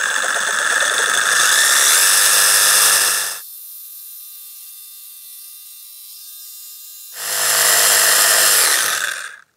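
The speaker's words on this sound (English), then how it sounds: "And I'll take my Sawzall. I'll try to keep it straight down the line" A Sawzall reciprocating saw cuts through a Yamaha Blaster 200 engine part, two loud, harsh bursts of buzzing sawing separated by a few seconds of quiet, steady whine.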